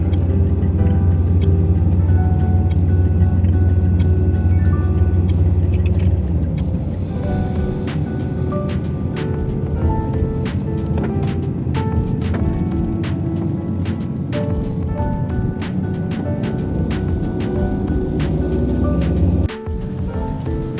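A Volkswagen Caravelle T5 TDI van drives along a mountain road in northern Thailand, its steady engine and road hum filling the cabin, with faint clicks and ticks over it and no talk.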